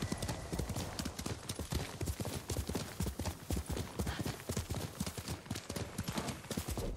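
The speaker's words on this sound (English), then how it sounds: "Good horse, Kage." Horse galloping in the video game Ghost of Tsushima: loud, rapid, steady hoofbeats drumming continuously from start to end, close and alone.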